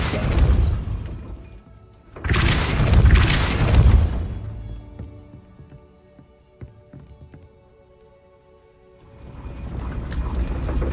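A Repulso spell cast in combat in Hogwarts Legacy comes as loud shattering, crashing bursts, one short and then a longer double blast, followed by quieter clattering and a swelling rumble at the end.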